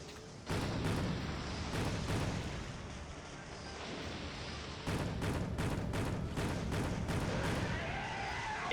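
A big mounted gun fires repeatedly in a video game: heavy booming blasts in rough bursts over a dense rumbling battle din, with a few sharper, rapid shots clustered near the end.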